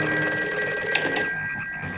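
A telephone rings in the movie Frogs, a steady, continuous electric bell tone held close and loud for about two seconds with no speech.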